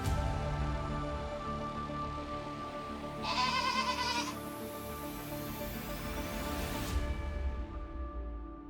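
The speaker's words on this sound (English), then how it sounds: "Here, goats, yes, real goats," A goat in the argan trees of southwestern Morocco lets out a single clear, wavering bleat near the middle, standing out over a soft background bed of music.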